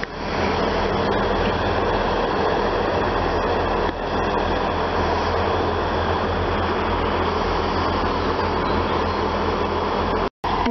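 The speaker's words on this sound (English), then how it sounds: "we have a Great Western Railway double pairing of Pacers terminating in from Barnstaple" A pair of Great Western Railway Pacer diesel units run into Exeter Central station, a steady loud rumble of engines and wheels on track holding throughout with no talk.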